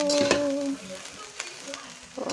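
Wild yam being stir fried in a pan: soft sizzling with brief scraping stirs and a short tonal squeak, close and fairly quiet, no talking.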